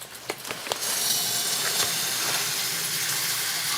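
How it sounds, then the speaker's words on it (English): Aquarium gravel and its packing liquid poured into a Fluval Edge 6-gallon tank: a few early crunchy clicks, then a steady, fairly loud hissing rush of liquid and gravel pouring continuously. "It comes in this liquid, and you want to add the liquid along with the gravel."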